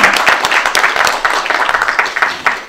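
Loud, close applause from an audience welcoming guests at a Korean art song gathering in Daegu-Gyeongbuk: a thick, continuous wash of many hands clapping from start to finish.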